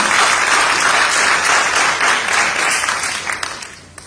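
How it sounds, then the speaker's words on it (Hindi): Sustained audience applause at an award show in Delhi, loud and dense for several seconds before tapering off into scattered claps as it fades. "कृपया तालियों से अपना साथ बनाए रखिएगा।"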